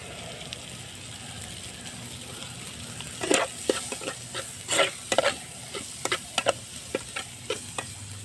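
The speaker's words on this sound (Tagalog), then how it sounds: "Gigisa niya yung ricado para masarap daw ang ricado." Garlic, onion and ginger sauté in a pan with a low, continuous sizzle, joined partway through by a run of sharp, irregular stirring and scraping knocks close by.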